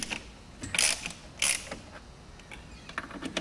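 Bolts being loosened on a door adjustment fitting, a few close metallic ratcheting clicks and creaks in short bursts with quiet gaps between.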